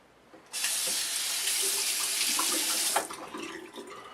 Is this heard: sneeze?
no